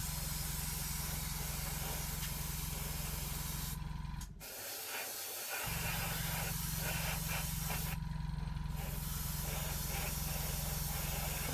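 An airbrush sprays gloss varnish clear coat onto a model aircraft, a continuous close hiss that briefly drops out mid-way before resuming steadily, with no voices.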